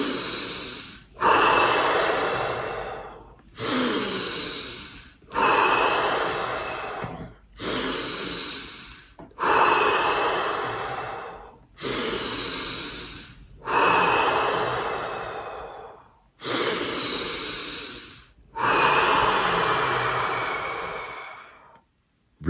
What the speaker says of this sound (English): Here we go, 5 deep breaths in.